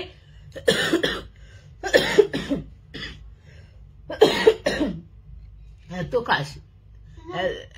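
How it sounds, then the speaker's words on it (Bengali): A person coughs in several harsh bursts, some in quick pairs, close to the listener, over a faint low hum with no clear talking. "এত কাশি হচ্ছে"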